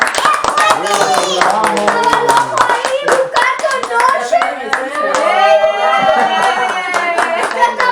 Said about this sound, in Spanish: Un aplauso para Laura